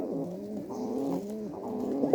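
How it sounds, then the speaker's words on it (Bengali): A female pigeon coos in a steady run of soft, throaty, wavering calls, close and continuous with no talking. "এই যে এটা একটা মাদি কবুতর, এই মাদি কবুতরটা ধরেছি"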